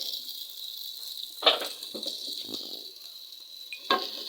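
Onions sizzle steadily in a hot pan, a continuous hiss broken by a few soft clatters of stirring.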